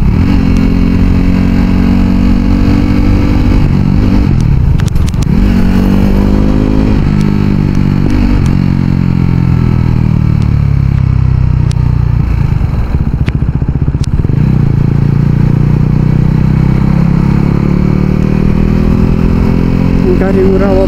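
A KTM RC 390 motorcycle engine runs loud and steady through a morning ride on busy roads, pitch rising and falling with gear changes and throttle, with a voice talking over it.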